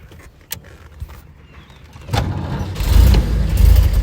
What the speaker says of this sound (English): I'll go ahead and start the engine and close the hood.